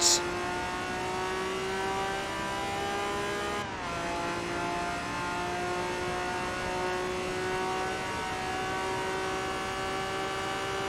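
In Forza Motorsport 2, a car engine holds a steady, loud droning tone with a brief dip partway through, sustained and unbroken for about eleven seconds.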